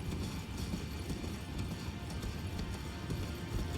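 In the Elden Ring video game, a horse gallops along steadily while being ridden, its rhythmic hoofbeats running continuously under a low background hum.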